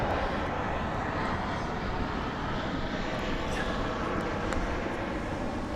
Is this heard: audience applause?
no